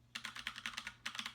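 Fast typing on a Freewrite's noisy, very clicky keyboard, a close, rapid string of sharp key clicks in two quick bursts with a brief pause between them, nobody speaking.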